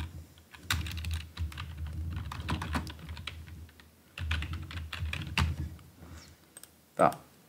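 Rapid, uneven bursts of computer keyboard typing with short pauses between runs, close and fairly quiet, ending with a louder single key thump, while someone speaks softly over it.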